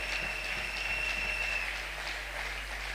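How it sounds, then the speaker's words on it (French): Church congregation applauding a first-time visitor, steady, fairly distant clapping under a constant hum, with no clear cheering voices. "nous allons te recevoir avec les acclamations"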